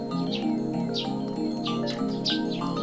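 Several bird chirps come in quick separate bursts from outside, heard over a continuous musical background that never drops out.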